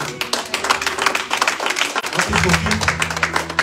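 A church congregation applauds in a steady wash of clapping, with a voice talking over it and a low musical tone entering partway through.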